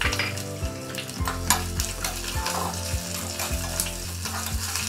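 Curry leaves hit hot oil tempered with mustard seeds and cumin, giving a steady crackling sizzle with stirring scrapes of a spoon over soft background music.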